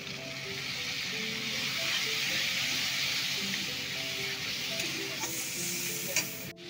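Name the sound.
frying spice masala with turmeric and water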